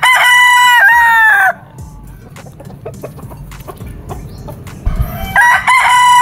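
A Bacolod Eagle bloodline gamecock crows loudly and close, two long harmonic calls at the start and end separated by quieter barnyard noise and a few soft clucks.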